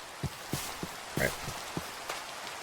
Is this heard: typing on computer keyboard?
no